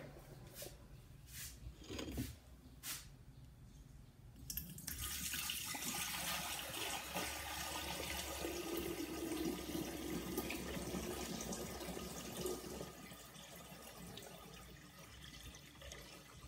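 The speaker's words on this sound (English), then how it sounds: "So we're gonna get this poured back into our big beaker now." Filtered liquid from a silver and copper recovery process being poured back into a large beaker, a steady continuous splashing pour that builds after a few brief clinks and lasts to the end, with no talking.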